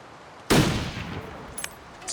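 A single rifle shot in the survival game The Long Dark, one sharp, loud crack followed by a decaying echo through quiet surroundings, with faint small sounds afterward and no talk.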